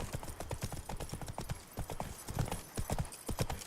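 Hooves of the horse Roach from The Witcher 3: Wild Hunt clip-clop in a quick, steady galloping rhythm, close and fairly loud, with a faint whinny-like sound and a trace of voice underneath.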